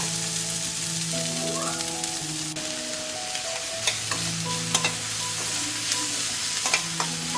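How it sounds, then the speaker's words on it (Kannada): Onions sizzle in hot oil for a tempering, crackling steadily while a spoon stirs and scrapes with a few sharp clinks. Soft tonal background music runs underneath. "ಸ್ವಲ್ಪ ಎಣ್ಣೆ ಹಾಕ್ಕೊಂಡು ಒಗ್ಗರಣೆ ಹಾಕೊಳ್ಳೋಣ. ಈರುಳ್ಳಿ ಅಷ್ಟೇ ಹಾಕಿದ್ದೀನಿ ಒಗ್ಗರಣೆಗೆ,"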